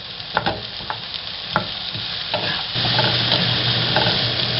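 Onions fry in a pan with a steady crackling sizzle, broken by the scrape and clack of a utensil stirring them several times, close and loud throughout.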